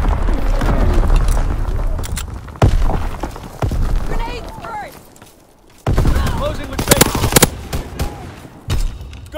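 Combat gunfire and mortar explosions in a video game: rapid bursts of shots and heavy booms come in clusters, close and loud, with shouted voices mixed in.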